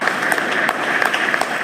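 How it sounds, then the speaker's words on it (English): People clapping for carers during a nationwide evening tribute, a steady spread of applause with a few sharper nearby claps standing out, no talk on top. "Clap for carers"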